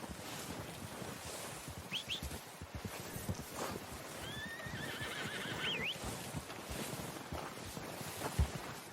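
A horse in the video game Red Dead Redemption gives a couple of short neighs and whinnies over wind, hoof clip-clops and ambient game noise, mid-distance and fairly faint.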